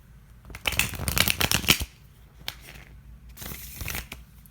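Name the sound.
shuffling tarot cards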